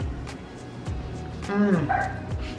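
Small dogs barking and yipping in short bursts, with a couple of higher whining calls mid-clip, heard indoors amid a cozy evening meal.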